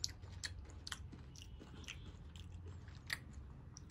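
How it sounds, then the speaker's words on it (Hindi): Someone bites and chews Cadbury Dairy Milk Crackle chocolate up close, with quiet crunchy bites and soft chewing in an irregular rhythm, and no talking. "चलिए खा के देखते हैं कैसा है आखिर ये"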